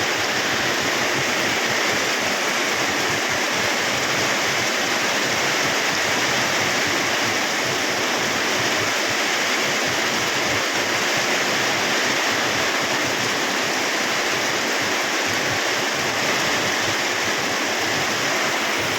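Heavy rain pours down hard and without a break, a dense, loud, steady wash that fills the whole scene.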